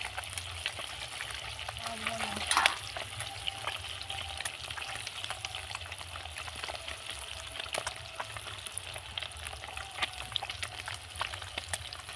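Ruli fish frying in hot oil, a steady close crackling sizzle running throughout with a few brief clinks and scrapes, no one talking.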